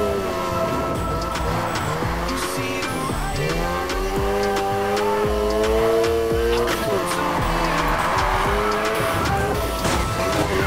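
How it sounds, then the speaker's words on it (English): A car drifts through corners in the racing game Need for Speed Heat, with long, loud, wavering tire squeals layered over a revving engine that rises and falls without a break. "Now try and hold those drifts."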